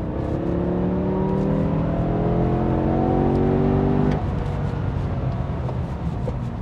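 A BMW E60 M5 engine in M mode revs up through a rising, steady tone from inside the car, then the pitch drops sharply as the throttle is released and the road roar continues.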